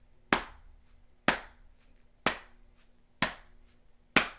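Sharp, loud claps ring out in a steady unison rhythm, five evenly spaced hits about a second apart, from a crowd in a movie scene with no talking.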